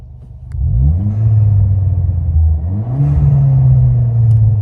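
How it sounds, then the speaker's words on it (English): A Stage 2 modified Ford Fiesta ST-2 with over 250bhp is revved twice, its deep rising engine roar and exhaust note climbing and settling each time, with a brief dump-valve whoosh, loud and close, no talking. "Can you hear that dump valve? Hopefully you can. Hopefully you can hear the exhaust as well."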